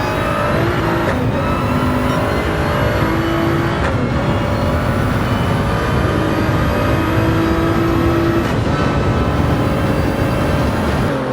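A race car accelerating hard through a chicane toward the Mulsanne corner in a summer championship race, loud and close, engine revs climbing steadily with quick gear changes breaking the rising whine, no voices over it.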